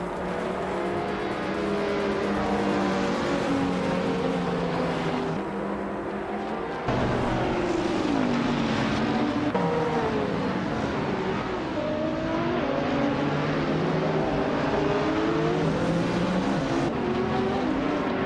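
GT3 race cars from a racing video game, among them a 2014 Dodge Viper SRT, race at Vallelunga. Several engines roar and shift pitch without a break through gear changes, with cars bunched close together.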